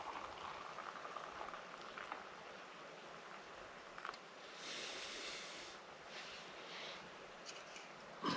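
Water boiling in a pot for porridge at a wild camp in hot weather, a faint, steady bubbling and hissing simmer with small pops, heard alone without talk.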